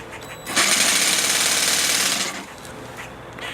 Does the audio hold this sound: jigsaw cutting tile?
yes